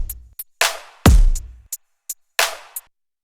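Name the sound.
drum bus playback of a song's drums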